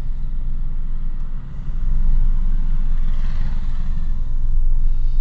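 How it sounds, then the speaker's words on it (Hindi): A car creeps forward in first gear, a loud, steady low engine rumble heard close from inside the cabin, swelling slightly partway through with no talk. "ये गाड़ी को मैं आगे बढ़ा रहा हूँ"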